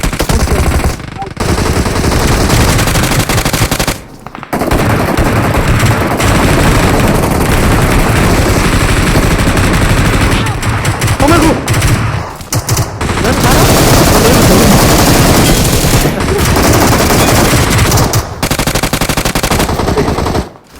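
Sustained automatic gunfire from the mobile battle-royale game PUBG Mobile, loud and dense bursts rolling almost continuously with a few brief gaps, with players' voices occasionally talking over the shooting.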